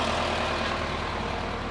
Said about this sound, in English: let the truck warm up for a bit